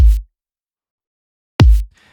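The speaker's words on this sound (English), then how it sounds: "it is a drum machine kick layered with a little bit of white noise" Two punchy 1980s-style drum machine kicks layered with a wash of white noise land alone, with a long silent gap between the booming hits.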